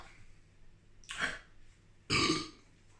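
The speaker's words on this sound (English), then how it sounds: "It makes me burp." Two loud, close burps from someone who has just drunk a cloudy sour beer, the second deeper and longer than the first, separated by about a second of quiet.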